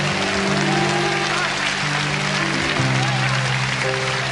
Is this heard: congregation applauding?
yes